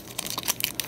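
A Pokémon card booster pack from the Dragon Majesty set is torn open, giving a close, dry burst of crinkling and tearing foil wrapper with short sharp crunches and no talking.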